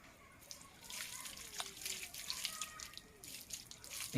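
Water runs and splashes over hands being washed for wudu, a soft close trickle with a low voice under it.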